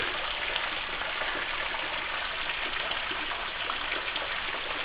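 Water rushes steadily at Numantia Falls in Faulconbridge in the Blue Mountains, swollen and overflowing into a turquoise pool, a continuous broadband gush with no pauses and no voices.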